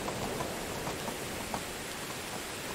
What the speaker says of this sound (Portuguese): hoje vai ter que sair na chuva mesmo